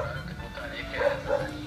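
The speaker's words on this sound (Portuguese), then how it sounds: "Ah, meu cachorro latindo, mas que beleza" A household dog barks a couple of times in the background, short yips rising over ongoing talk nearby.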